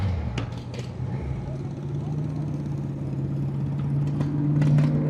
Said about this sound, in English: this thing has a stock exhaust. Sounds pretty good though.